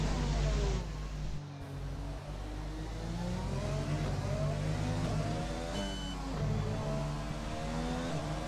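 A Red Bull F1 race car in the F1 2020 video game laps the Vietnam Grand Prix, its high engine whine sweeping steadily up and down through quick gear shifts, continuous and fairly quiet.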